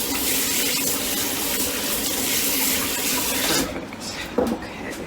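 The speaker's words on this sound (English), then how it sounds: "Just gonna wash my hands off here because they are quite garlicky at the moment." Garlicky hands are rinsed under a running kitchen tap, a steady close splash of water that cuts off near the end with a small clunk.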